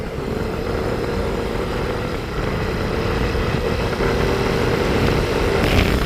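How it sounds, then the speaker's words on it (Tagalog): A motorcycle engine runs steadily at close range, a constant buzzing drone that grows slightly louder toward the end, with no voices over it. "Makakasakay uli ako ng motor."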